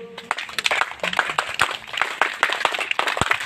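A small group claps at a resort's ceremonial blessing during a birthday celebration, close and uneven, with sharp individual slaps over a few seconds and little talk.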